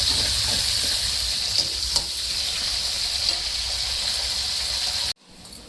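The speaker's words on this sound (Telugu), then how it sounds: "హోల్ గరం మసాలా 2 నిమిషాలు వేగిన తర్వాత ఉల్లిపాయలు, పచ్చిమిర్చి వేసి ఎర్రగా వేసుకోవాలి" Onions and green chillies frying with whole garam masala in a pan, a continuous close hiss and sizzle with a few stirring knocks, cutting off abruptly near the end.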